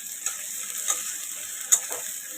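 Onion and tomato frying in a pan, a steady high hiss of sizzling with a few sharp scrapes of stirring spaced through it, close and moderately quiet, no voices.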